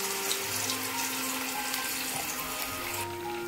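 Running water flows steadily from a tap into a cooking pot, a continuous splashing stream that stops abruptly near the end.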